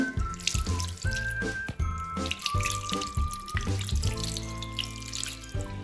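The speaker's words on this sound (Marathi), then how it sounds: "इथं आता आपल्याला ही कारली थंड पाण्याने धुवून घ्यायची आहे तर याच्यावरती मी पाणी घालते" Cold water pours from a tap over boiled bitter gourds in a kitchen sink, a steady close splashing stream with a faint whistling ring running through it, no voices.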